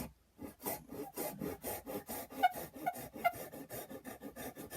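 Hand saw cutting wood for a lap joint, a close, even series of rasping push-and-pull strokes in a steady rhythm with no talk.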